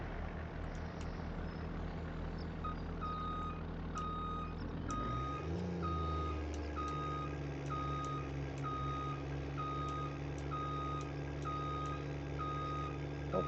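Repeated reversing beeps from a truck in Farming Simulator 25, spaced in a steady rhythm over a continuous engine rumble, with the engine note shifting partway through as the vehicle moves.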